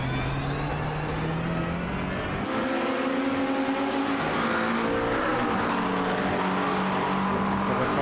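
A GT race car in a sim racing league at Silverstone Circuit holds a loud, close engine drone, dips briefly, then climbs again as the revs rise in a sweeping pitch.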